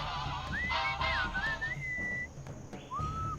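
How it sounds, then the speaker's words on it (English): A melodic human-style whistle inside the Sam & Max: Beyond Time and Space video game, a few rising and gliding notes in a short tune, clear and close, with a further sustained note after a brief pause. "What is that enchanting whistling sound?"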